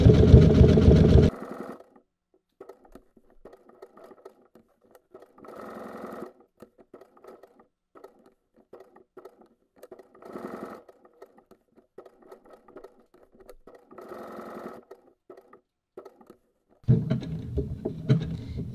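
Sewing machine stitching appliqué on a Halloween monster quilt block: a loud run of stitching at the start and again at the end, with short, quieter bursts of stitching and soft handling noises in between.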